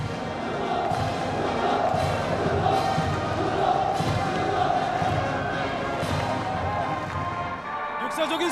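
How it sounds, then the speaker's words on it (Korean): A massed crowd in the capital roars slogans in unison, a loud, dense wall of voices that rolls on continuously and echoes across the open air. "우렁찬 구호의 함성이 수도의 하늘가로 끝없이 메아리쳐 갔습니다"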